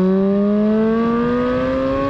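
A manual Ferrari F430's V8 engine pulls under acceleration from inside the cabin, a loud, continuous rising howl whose pitch climbs smoothly over two seconds without any talk.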